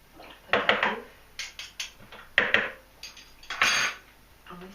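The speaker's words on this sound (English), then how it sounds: "And we stir that." Birch sap wine must being stirred in a container, heard as a series of close, uneven clinking and scraping strokes of a utensil against the vessel with short pauses between them.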